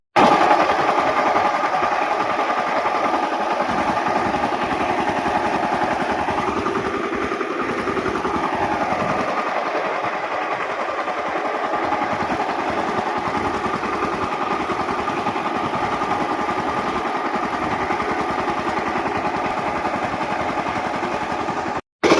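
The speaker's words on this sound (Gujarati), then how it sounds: "ટુ વ્હીલ હિંગડાવાળું ટ્રેક્ટર એકલું એકલું હાલે" A two-wheel walk-behind tractor engine runs steadily and loudly on a bajra (pearl millet) field, a continuous unbroken mechanical drone with no talk over it.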